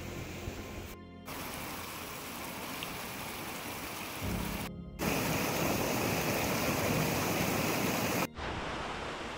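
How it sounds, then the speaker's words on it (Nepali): A stream flowing down from Sundaha lake in East Rukum in winter, a steady, loud, close rushing of water broken by abrupt cuts, with no voices. "यो चाहिँ सुन्दहबाट बगेर आएको पानी हो।"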